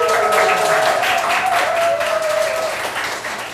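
Continuous audience applause at a book launch concert welcoming the author, steady clapping across the room with a sustained musical tone running beneath it, then tapering off.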